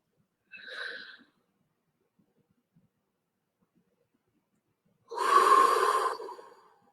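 Two separate breathy exhalations in an otherwise quiet space: a short soft one first, then after a long silence a louder, longer yawning breath that trails off.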